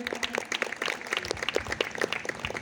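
An audience at a church gathering claps for a visiting prophet, brisk, fairly close and uneven, with individual hand claps standing out in a short burst.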